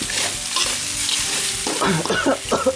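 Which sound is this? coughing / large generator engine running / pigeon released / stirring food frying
stirring food frying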